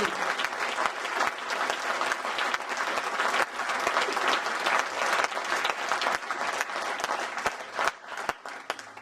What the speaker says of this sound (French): Je veux que vous les applaudissiez encore, ils le méritent